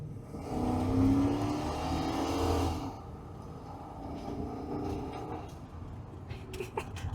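A 1997 Chevy C1500 pickup accelerating hard, its engine roaring loudly for about three seconds before easing off to a quieter rumble with faint clicks and rattles.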